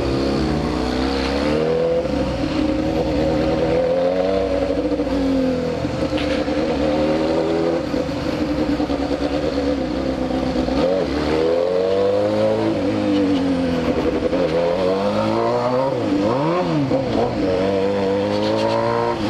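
A Honda Hornet motorcycle's exhaust revs steadily and loudly up close, with rising and falling engine pitch sweeps throughout and no speech.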